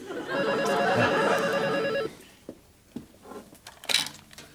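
An old-style telephone bell rings in a long, buzzing trill for about two seconds, then stops, followed by faint clatter and small household noises in a quiet room.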